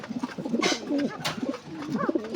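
Several pigeons coo in soft, repeated bursts close by, a loft holding six male birds among others, with a couple of sharper calls cutting through the murmuring.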